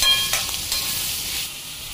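Chopped onion frying in a pan while crab chicken is prepared outdoors on a seashore: a steady, fairly loud hiss of sizzling oil, with soft stirring scrapes near the start.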